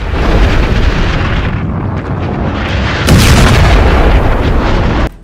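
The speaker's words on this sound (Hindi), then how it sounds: "नेतन्याहू एक एक कर गोले दाग रहे थे।" Israeli artillery shells fire and explode in Lebanon in news footage, a loud continuous rumble of booming blasts with a sharp burst near the middle and an abrupt cutoff at the end.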